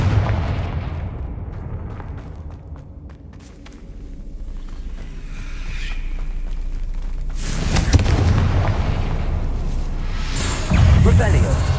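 Loud magical blasts from the Confringo fire spell in the Hogwarts Legacy video game, booming bursts that strike near the end over a constant bed of combat noise.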